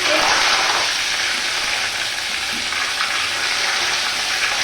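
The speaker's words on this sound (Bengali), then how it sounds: "তেলের মধ্যে অল্প একটু রসুন বাটা দিয়ে নিলাম" Garlic paste sizzling in hot oil in a pan for a bhetki fish-bone chachchari, a steady loud hiss of frying running unbroken throughout.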